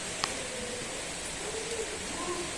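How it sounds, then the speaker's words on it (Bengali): Steady rain from Cyclone Remal hisses in a continuous wash, with faint scattered sounds in the background. "আজকে সারাদিন তো এরকমই থাকবে, সারাটা দিন বৃষ্টি হবে আজকে"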